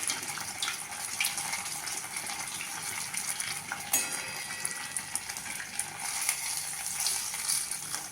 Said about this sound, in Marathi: हाय फ्लेमवर तळायचं नाही आहे मिडियम फ्लेमवरतीच तळायचं आहे